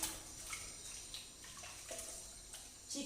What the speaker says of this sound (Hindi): और इसी गर्म पानी से मैं सारे बर्तन भी धो लूँगी जो मेरे थे।